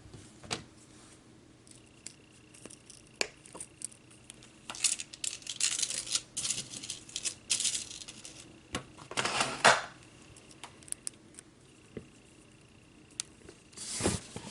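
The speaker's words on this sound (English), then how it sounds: "And we're just going to cut off 3 links." Aluminum chain links being snipped off with a cutting tool, giving several short, sharp clicks and snaps scattered over a quiet background, with a busier cluster of handling and cutting noise in the middle.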